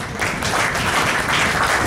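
Steady, dense applause from a large audience at a college annual day function as prize winners are honoured, sustained and fairly loud throughout with no pauses.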